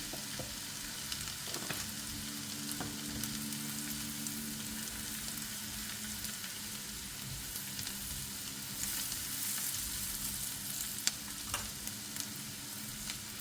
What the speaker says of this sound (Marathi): जसं जसं कांदा परतेल तसंच हे थोडंसं त्याच्यामध्ये आपण हिंग टाकून घ्यावा, थोडंसं लालसर झाल्यावरती